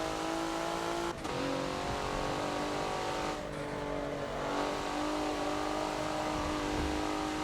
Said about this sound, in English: as I came off the throttle, the back end, car rotated a little bit to get it into the corner